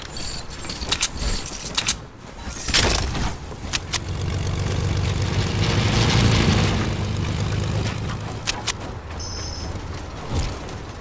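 Propeller airplane engine droning steadily through the middle of a Fortnite match, rising and fading under clicks, footsteps and game effects, with a brief chime near the end.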